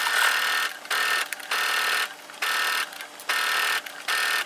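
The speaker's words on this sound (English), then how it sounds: "I'm going to stitch the side at a 1/2 inch seam allowance" Stitching a side seam of a bikini top at a half-inch allowance, a sewing machine runs in five or six short bursts of rapid whirring separated by brief pauses, close and clear with no talk.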